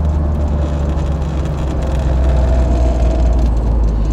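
A restored 1950 Mercedes 170 S Cabriolet A runs with a steady low engine rumble and hum, close and even throughout, with no talk.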